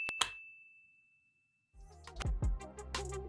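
A single bright bell ding rings out and its clear tone hangs and fades for about a second and a half. Silence follows, then louder clattering and rumbling noises.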